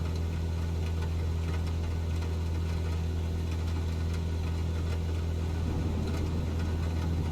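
An aircraft engine at full throttle in the Microsoft Flight Simulator 2020 video game gives a constant, loud, low droning hum with no change in pitch, heard on its own.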